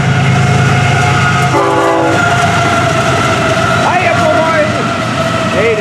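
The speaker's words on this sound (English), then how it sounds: "this is FEC101, the hot train." FEC101 freight train on the Florida East Coast line rumbling steadily past at close range, with a loud horn chord sounding partway through and continuous rail noise throughout.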